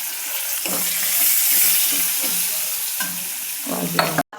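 Chopped onion hits hot oil with pounded garlic and coriander, a loud continuous sizzle with a few scraping stirs of the spatula, close up and without talk.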